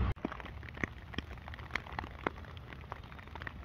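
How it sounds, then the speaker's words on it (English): Heavy rain falls in a small town with no sidewalks, a steady dense hiss with scattered louder drops and patters, close and continuous, with no voices. "This is the first big rain I've had to deal with"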